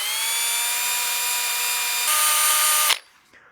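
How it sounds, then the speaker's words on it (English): A drill-driven sanding pad whines steadily while spot sanding tear-out on a turned wood bowl, feathered across the surface. The whine is loud and continuous with a slight rise near the end, then stops abruptly, leaving quiet. "Try and feather that drill across the surface to try and blend that."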